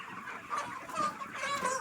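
Backyard chickens that forage for scattered rice and insects cluck in short, mid-loud bursts, close by. No one speaks.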